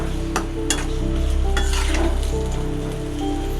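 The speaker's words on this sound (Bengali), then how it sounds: "লবণ দিয়ে দিলাম। তারপর একটু নেড়ে দিলাম" Eggs cooking with salt in a pan are stirred, giving a steady close frying sizzle with a few scraping clicks from the utensil. No one speaks.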